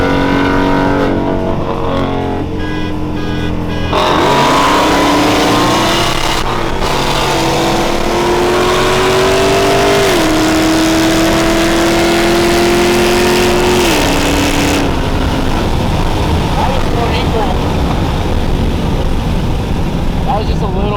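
A 700 wheel-horsepower ProCharger-supercharged Mustang accelerates hard in a race pull against a modified Hellcat, its loud engine note rising steadily through the gears with brief shift breaks, the roar continuous and close throughout.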